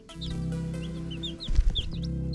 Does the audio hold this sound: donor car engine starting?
no